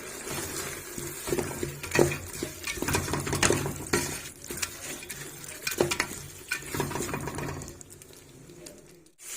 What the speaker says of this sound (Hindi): दाल को अच्छे से हमने भून लिया है। इसमें ऑयल छोड़ दिया है।